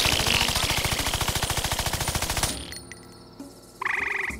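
Rapid automatic gunfire in the Worms Revolution video game, a long steady burst of evenly spaced shots that cuts off abruptly, followed by quieter game effects and a short bright tonal chime near the end.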